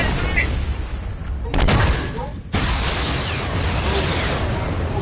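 Rocket blasts in a video game: a dense, booming barrage of explosions and gunfire-like bursts that runs loud for the whole clip, with one heavier burst near the middle.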